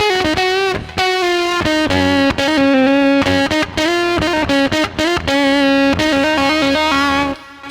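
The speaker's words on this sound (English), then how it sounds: "this super cool Max for Live patch I found called Squid, which is an octave." Distorted electric guitar solo run through amp simulation and a Squid octave effect in Ableton Live, a loud, busy stream of bent and choppy notes over several seconds, with no talking.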